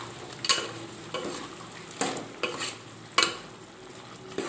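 Chicken biryani is stirred in a pan, with a spoon scraping through the rice in close, crisp strokes roughly once a second over a faint background hiss.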